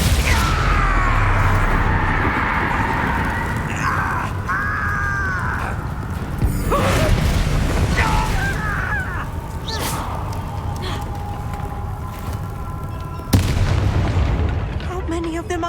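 Fiery spell blasts erupt amid combat in Hogwarts Legacy, booming bursts at several points over a dense, continuous mix of battle noise, music and game effects.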